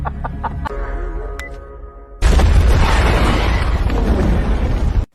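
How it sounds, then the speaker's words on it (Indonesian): A loud, sudden explosion from an action film bursts in partway through and roars on as a dense, sustained blast filling the rest of the clip, after quieter clucking fowl sounds at the start. "memegang ponsel untuk memicu ledakan besar"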